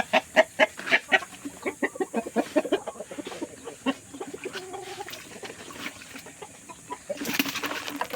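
Black Australorp chickens cluck up close in a rapid, irregular series of short calls, followed by a brief burst of rustling noise near the end.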